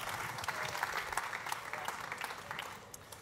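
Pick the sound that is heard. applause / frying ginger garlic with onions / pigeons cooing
applause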